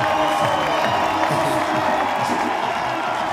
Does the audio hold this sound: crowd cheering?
yes